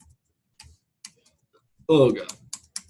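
Scattered, sparse clicks of computer keyboard keys, each a single light tap, close by in a quiet room, broken by a brief exclamation from a voice midway.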